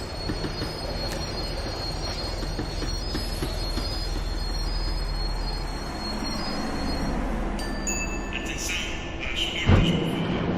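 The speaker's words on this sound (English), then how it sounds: "The tram was slowing down, and I'd only just gotten on board." A tram in the video game Max Payne 3 slows down with loud, sustained metallic wheel squeal over a steady low rail rumble, building to a sharp clank near the end.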